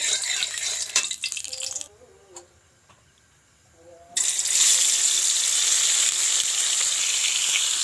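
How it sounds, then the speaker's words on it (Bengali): Tilapia pieces frying in oil in a pan, loud close sizzling with a few ticks, briefly dropping away before the hiss returns strong and steady for the rest. "তো গাই মাছটাকে ভালো করে ভেজে নিচ্ছি"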